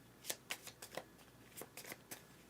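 Cards for the Beyond the Sun board game being riffled and shuffled by hand, a series of quick soft snaps and flutters at close range in a quiet room.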